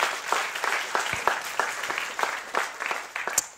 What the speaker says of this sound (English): Round of applause for Aoife, please.